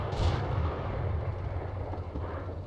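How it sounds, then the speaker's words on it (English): Heavy gunfire in the tank combat simulator Steel Beasts Pro, a deep booming blast with a rumbling tail that rolls on under low background noise. "We're taking fire here."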